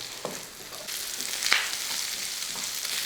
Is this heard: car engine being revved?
no